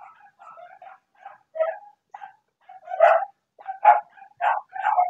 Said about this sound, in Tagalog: Oh, ingay na naman ng mga aso mga ka-idol.